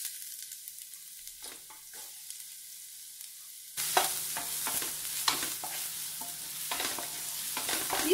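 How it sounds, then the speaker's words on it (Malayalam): Chopped onion goes into hot coconut oil. A quiet stretch of light scraping gives way to a sudden louder sizzle and repeated stirring clatter that continues to the end. "വെളിച്ചെണ്ണ ചൂടാവുമ്പോൾ ഒരു സവാള അരിഞ്ഞതാണ് ചേർക്കണം."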